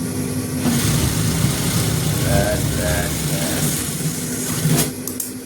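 A sewing machine runs steadily while stitching the edge of a gents' kurta, a continuous mechanical whir with a low hum, close and fairly loud throughout.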